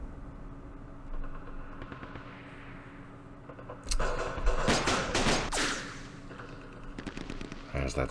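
Sniper and automatic gunfire in the Operation Starlite war video game, with bursts of loud rapid shots clustered in the middle and more firing near the end over a steady low background hum.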